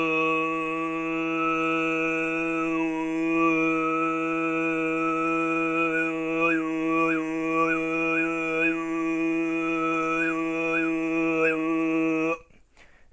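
A man's Tuvan throat singing: a steady, buzzing low drone rich in overtones, held close and loud for about twelve seconds, with a whistling overtone briefly wavering above it before it stops abruptly.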